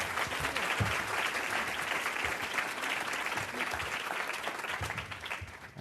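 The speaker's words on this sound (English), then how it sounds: "Can everybody give a round of applause for our panel," Sustained applause from a conference audience for a panel on preventing firearm violence in communities and schools, dense and steady throughout with no speech over it.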